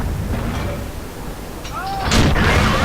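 Tank cannon shots in World of Tanks from a KV-1S and a TOG, including the player's M18 Hellcat, landing as booming impacts over game noise, with a louder burst near the end.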